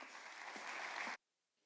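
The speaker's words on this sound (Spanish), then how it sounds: "sí que os voy a pedir un fuerte aplauso para Analía Belly Dance" Audience applause for a belly dance group at a Beldur Barik 2019 event in Irun, a brief steady burst of clapping that cuts off abruptly into silence, faint and distant.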